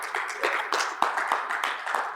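A church congregation claps hands for God during a service in Guadalajara, a brief burst of dense, fairly close applause with overlapping claps and no clear voices.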